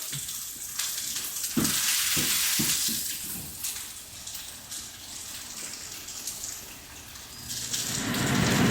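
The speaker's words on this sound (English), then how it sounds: "I just want like a good colored sear on this." Meat sears under a press weight in a hot pan, a steady broad sizzle with a few sharp spits and crackles early on, swelling louder near the end as the heat is turned up.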